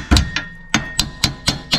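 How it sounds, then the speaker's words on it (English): Hammer tapping on the rear torsion rod of a VW Beetle, pried up off its perch with a pry bar. Sharp metallic knocks land near and loud at an even, steady pace, about seven strikes, with no voices over them. "tap on the torsion rod as it lifts off of that perch"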